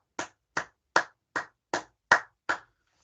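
Seven crisp hand claps in an even, steady rhythm, close and alone with silence between them, at a charity's annual general meeting.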